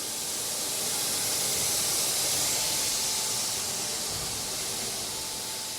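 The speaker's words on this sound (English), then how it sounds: "The noise we can hear is the air that is being released." Air hissing out of a pneumatic bladder grape press during the Champagne grape harvest, a loud, steady, unbroken rush of noise that holds evenly for several seconds with no voices.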